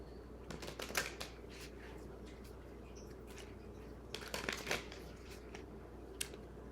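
Tarot cards shuffled and pulled from the deck, soft quick riffles and flicks in a couple of short bursts, close and quiet against a faint steady background hum.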